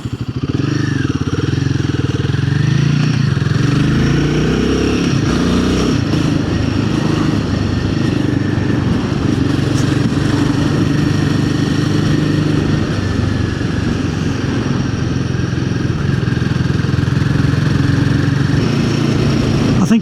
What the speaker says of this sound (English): It is quite a torquey little motor.